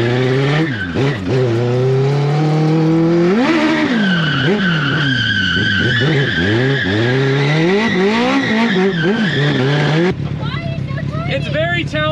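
A cheap, small racecar driven hard on a track, with its engine revving up and down and tires squealing and skidding loudly through corners, close and continuous; a brief engine change near the end.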